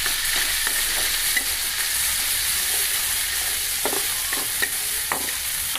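Tomatoes sauté in a frying pan with a loud, continuous sizzle, punctuated by scattered clinks and scrapes of stirring, close up and with no voices.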